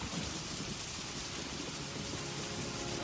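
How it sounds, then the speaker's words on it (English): Steady rain patters in a dense, even hiss with no breaks and no voices, heard at a moderate distance. "Here comes the rain."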